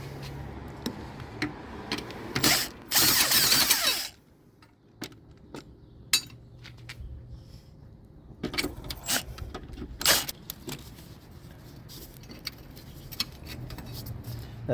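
A socket ratchet works loose the bolts of a car's motor mount in close, irregular clicking runs, first in a loud burst, then scattered ticks and clanks against a quiet garage background.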